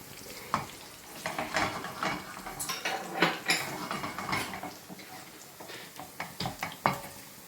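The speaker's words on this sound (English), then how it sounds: "And then, okay, we stir it a bit." Fresh chilies stirred into fried guanciale in a pot, with a utensil clattering and scraping steadily against the metal over a bed of sizzling fat, close and busy throughout.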